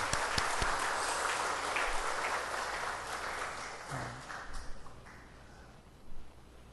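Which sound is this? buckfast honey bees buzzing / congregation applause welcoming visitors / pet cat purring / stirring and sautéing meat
congregation applause welcoming visitors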